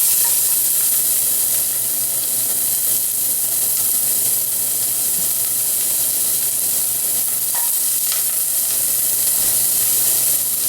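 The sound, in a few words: onions and garlic frying in olive oil in hot saucepan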